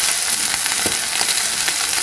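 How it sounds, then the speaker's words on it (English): Salmon fillet sizzles and crackles steadily in a hot frying pan, a dense continuous hiss heard up close with no talking. "now it's sizzling, that is mean that it's hot. Now I'm gonna just throw my salmon in there"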